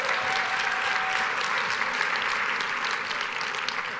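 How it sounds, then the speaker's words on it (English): An audience of about 450 administrators at a Las Vegas keynote gives loud, dense applause that continues steadily for several seconds without pause. "Big round of applause."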